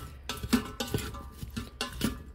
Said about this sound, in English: I'm gonna stir the spices in